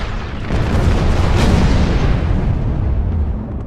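Ship struck by a torpedo exploding in the Star Trek Online space game, a loud dense blast swelling quickly and rumbling on as a sustained roar before slowly easing off.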